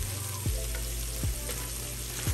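Onions and bell peppers fry in a pan for hamburger steak and gravy, giving a continuous bright sizzle. Three spatula knocks fall at a steady pace, and no one speaks.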